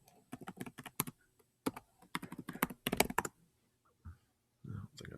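Someone types in short bursts on a computer keyboard, the close, crisp key clicks coming in quick clusters broken by brief pauses, with a little quiet talk in the gaps.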